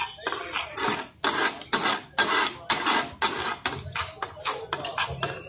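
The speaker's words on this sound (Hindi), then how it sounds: "अब इसको बस मिक्स करना है।" A spoon or spatula stirring mint leaves, whipped yogurt and fish masala in a metal pan for a spicy Balochi fish katakat, a steady run of loud scraping clatters and knocks close up, with a voice speaking briefly.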